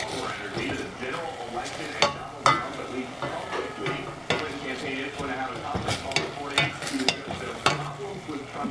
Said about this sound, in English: Stir it up again.